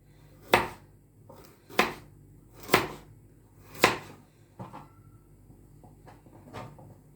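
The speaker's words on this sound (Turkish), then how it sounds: "İlk önce e, havuçlarımı doğramaktan başlayayım." A knife chops carrots on a board in a home kitchen, with four sharp, evenly spaced strokes followed by a few softer, quicker cuts.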